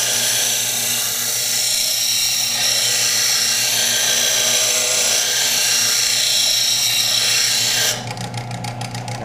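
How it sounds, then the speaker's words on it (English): A steel butter knife blade ground against a coarse-grit abrasive gives a steady, loud, high rasping whir that holds evenly, then shifts near the end into a choppier, pulsing grind. "that big grit is removing large amounts of steel."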